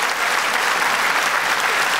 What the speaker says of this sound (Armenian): Դիմավորեք բարձր ծափարություններով